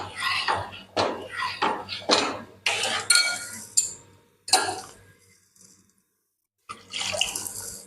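A little water added to a kadhai of pav bhaji to rinse the oil and masala: a series of close, splashy pouring bursts, then a brief lull before a final pour.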